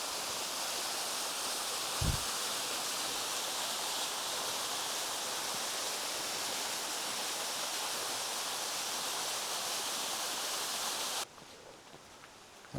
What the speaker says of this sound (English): All right, and yet another waterfall.